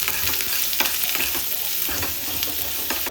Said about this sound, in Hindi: अब इसमें प्याज डाल के भून लेंगे।